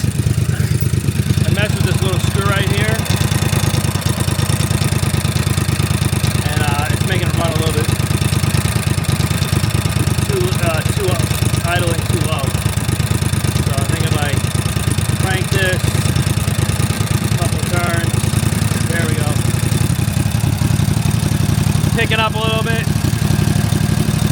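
A Snapper zero-turn mower engine runs at full throttle as a loud, steady mid-pitched drone throughout, with a person talking over it.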